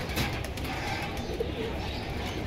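Racer pigeons coo softly amid a busy pigeon market in Jinjira Bazar, Keraniganj, Dhaka. Low murmuring coos sit under a dense, steady wash of crowd and market noise.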